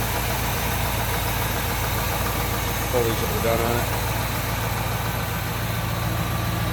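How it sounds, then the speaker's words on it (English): A 1964 Chevrolet El Camino's 350 small block Chevy V8 holds a steady, even idle, close by and continuous, with someone talking over it throughout. "Down at a nice idle speed."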